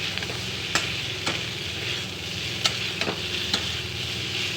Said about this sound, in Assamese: আকৌ এনেকৈ লাৰি দিছোঁ